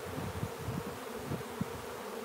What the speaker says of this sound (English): Let's put this on top and start shaking some bees.